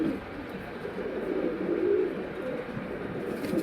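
Girebaaz pigeons coo in low, steady, overlapping murmurs from close by, under a soft constant background.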